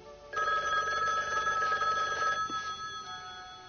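A telephone bell rings in a room, a loud continuous electric trill lasting about two seconds, then a brief softer ring before it stops.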